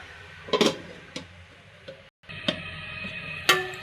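A lid is placed over a cooking pot, producing a few sharp metallic clinks and taps spaced about a second apart, close and fairly loud against a quiet kitchen background.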